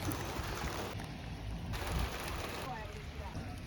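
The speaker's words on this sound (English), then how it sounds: "It's properly raining outside." Rain falls steadily outside at a feed station during a gravel race. It makes a dense, even patter with a faint wash of wind, and no voices are present.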